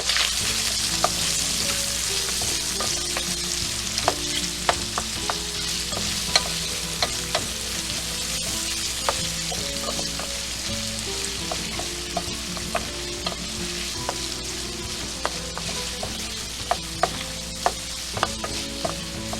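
Red onion sizzles steadily in a paella pan, a continuous frying hiss with frequent sharp pops and crackles and occasional utensil scrapes, close and fairly loud with no talk.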